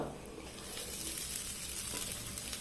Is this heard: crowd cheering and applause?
no